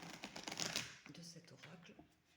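Oracle cards being handled and shuffled during a reading, a brief papery riffle and soft card slaps close by, under someone speaking French.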